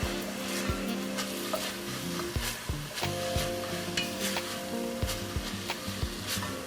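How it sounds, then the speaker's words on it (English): A spoon scraping and stirring tomato paste in a pot for keto Mexican chicken chili, with soft sizzling underneath and repeated scraping strokes close by, no talking. "we'll give this a stir"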